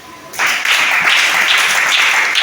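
Applause from a church congregation at a worship service, a sudden burst of dense clapping and cheering that starts after a brief lull and holds steady and loud through to the end.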